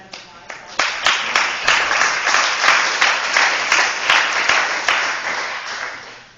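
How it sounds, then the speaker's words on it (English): Audience applause at an evening candidates forum on housing: a full room clapping steadily for several seconds, dense and close, swelling slightly before tapering off. "So I just want to give a little round of applause."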